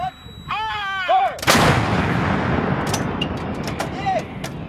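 A U.S. Marine M777A2 howitzer fires one loud artillery round close by during a fire mission, a sharp blast that rolls into a long rumbling decay with faint background noise and a brief voice before the shot.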